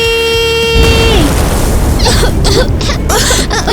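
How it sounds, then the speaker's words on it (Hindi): A loud, sudden explosive burst follows a sustained horn-like tone, then rumbling noise with scattered crackles and bursts. "ये क्या था? ईवा का धमाका था"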